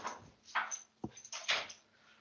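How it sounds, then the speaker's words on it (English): Small dog whimpering softly nearby indoors, a few short whiny breaths and a brief thump, faint and intermittent. "I've been graced by a dog."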